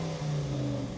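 A Jeep engine with its stock baffled exhaust gives a brief, steady, loud hum, a low droning tone held alone for about a second.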